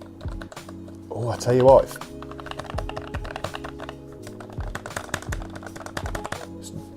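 Someone types on a secondhand Amazon-return computer keyboard with a worn space bar. The clicks are quick, fairly quiet and irregular, following a brief spoken remark near the start.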